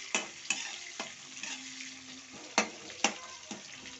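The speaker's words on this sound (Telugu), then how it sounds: "ఇది ఆనియన్స్ వచ్చి ఆయిల్లో ఫ్రై అవుతుంది." Sliced onions fry in hot oil for a tomato curry, a steady sizzle broken by sharp scraping stirs of a spoon against the pan at irregular intervals, close and clear with no talking.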